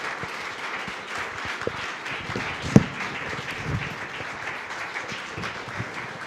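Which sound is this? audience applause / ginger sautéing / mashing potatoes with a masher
audience applause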